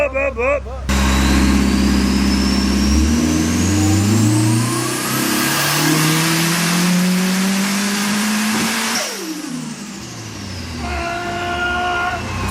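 A Nissan S15 fitted with a big turbo and anti-lag revs hard and loud, the engine note climbing steeply then falling away, with rough popping and crackling, heard up close with a voice briefly at the start.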